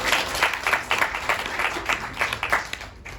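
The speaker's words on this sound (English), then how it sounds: "Round of applause" A training-seminar audience claps briefly in a loose round of applause, moderately loud and slightly uneven, fading toward the end.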